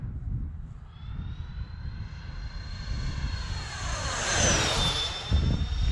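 A Freewing F-14 Tomcat electric ducted fan RC jet roars past overhead, its whining turbine sweeping up in pitch and swelling louder as it flies close, then trailing off over steady outdoor wind noise.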